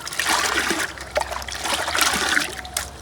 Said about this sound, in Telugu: బయట సాంపి చల్లుతున్నా.